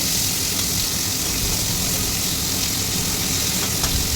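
Shrimp rubbed with salt and turmeric fry in hot oil, giving a steady, close hiss of sizzling that runs unbroken throughout with no talking.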